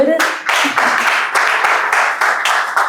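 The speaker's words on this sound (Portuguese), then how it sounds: "Aplausos, por favor." Audience applause at a formal Portuguese-language presentation of a doctor, a steady burst of many hands clapping close and loud for about three seconds, with a brief voice at the very start.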